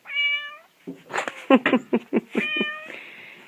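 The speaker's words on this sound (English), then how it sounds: "8 kitties all in one room. Kitty mayhem." Eight cats in one room meow and yowl close by, overlapping in a quick, busy flurry of short and drawn-out cries.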